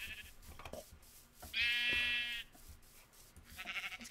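One sheep bleats once near and fairly loud, a wavering call of under a second, with quiet background noise before and after.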